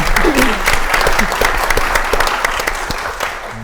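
A room full of people clapping steadily at a clean energy summit panel, dense and fairly loud, with a few voices mixed in.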